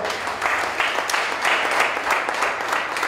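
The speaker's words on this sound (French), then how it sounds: "demander à l'assistance d'applaudir d'abord ces débatteurs." An audience at a debate event applauds the debaters, a moderate, somewhat distant wash of many hands that swells and dips in waves throughout.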